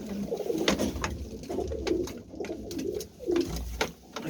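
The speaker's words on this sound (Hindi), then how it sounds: "ये मेरे मोस्ट फेवरेट जी फ्रांसी, मेरा बड़ा कबूतर है" A large pet pigeon coos nearby in a series of soft, low, rolling calls with short pauses between them, amid light rustling and background chatter.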